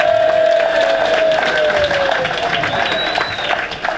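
A large crowd at a community chest mayor's golf outing applauds and cheers loudly and continuously, a dense wash of clapping with a whistle-like tone running through it, easing slightly toward the end.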